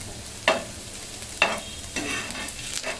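A spice tempering (baghar) for a potato and meat curry fries quietly in a pan, with a soft steady sizzle and about four sharp scraping stirs spaced through it.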